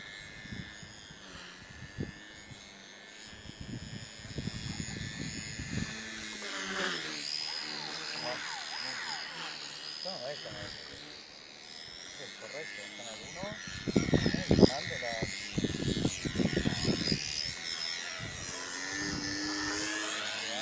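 Small electric motor of an XK K120 RC helicopter whining steadily throughout, with a high buzzing tone, while people talk loudly over it and grow louder near the end.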